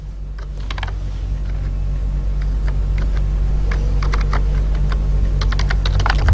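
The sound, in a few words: typing code on a computer keyboard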